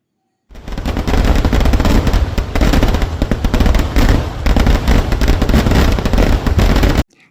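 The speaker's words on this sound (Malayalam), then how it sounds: "സൗത്ത് ഇന്ത്യയിൽ തന്നെ ഏറ്റവും വലിയ പകൽ വെടിക്കെട്ട്." A loud, relentless barrage of daytime temple festival fireworks at Kavaserry Pooram in Palakkad, Kerala: rapid crackling explosions merge into a continuous roar for several seconds, then cut off abruptly.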